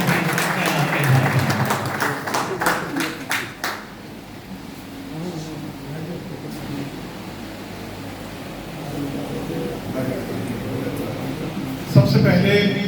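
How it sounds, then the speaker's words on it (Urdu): An audience at the Pakistan Club in Bahrain applauds to welcome the chairman of the POC. Dense clapping is loudest at the start, then fades into a steady hubbub of room noise and voices, with a sharp bump near the end. "اب میں بھرپور تالیوں میں چیئرمین پی او سی ان کو جو ہمارے مہمان خصوصی ہیں بھرپور تالیوں میں میں انہیں دعوت دیتا ہوں کہ تشریف لائیں"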